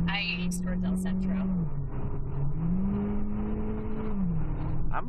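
A 2014 Kia Soul's engine revs hard near 5,000 RPM while accelerating on a highway, its steady drone rising and falling in pitch, heard from inside the car under a person talking.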